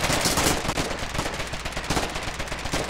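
Rapid gunfire from a firing line of infantry in the trench-warfare video game Foxhole, a dense burst of overlapping shots and automatic fire rattling on continuously at close range.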